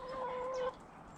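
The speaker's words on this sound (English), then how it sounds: "So it's interesting that the two hybrid hens are the noisy ones." A backyard hybrid hen gives one drawn-out, tonal cluck-like call lasting under a second, fairly close but quiet, followed by soft ambient background.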